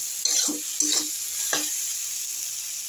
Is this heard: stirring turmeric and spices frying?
yes